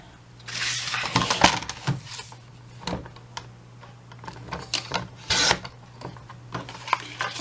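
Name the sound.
trimming paper to height with a paper trimmer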